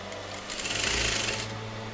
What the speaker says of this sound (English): just lay the fabric very lightly on the border fabric and sew it like this.